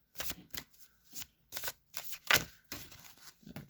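Goddess guidance oracle cards are shuffled by hand in close, repeated riffling bursts with short pauses between them. No voices are heard.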